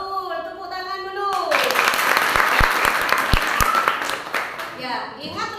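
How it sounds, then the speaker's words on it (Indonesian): A classroom audience claps together at a teaching session in an Islamic institute, starting suddenly after a teacher's drawn-out speech and continuing as a steady, moderately loud patter, with a voice returning as the clapping fades. "tepuk tangan dulu"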